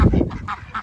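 Farm ducks sheltering behind a windbreak during the 2021 Texas snowstorm let out a quick burst of loud, nasal quacks and honks, close to the microphone and over in under a second.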